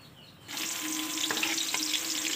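Garlic sautéing in a hot pan, a steady close sizzle starting abruptly after a quiet moment and continuing with a few soft clicks of stirring.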